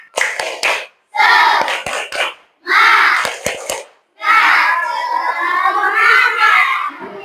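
A class of children claps out the tepuk semangat chant in bursts of rhythmic hand claps and shouted syllables, ending in a loud sustained group cry.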